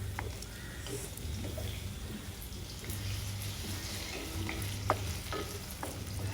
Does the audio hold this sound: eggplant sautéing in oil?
yes